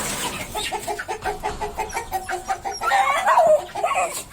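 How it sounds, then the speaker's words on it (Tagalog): A flock of chickens clucks in quick, repeated bursts at close range, steady and busy, with a louder squawk near the end. "Yan, mga manok dito, ang dami."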